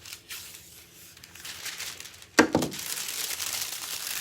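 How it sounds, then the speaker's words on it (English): A small piece of red fabric foil is crumpled by hand close up, soft crinkling that builds into a sharp crackle and then keeps rustling. "And I'm going to crumple it."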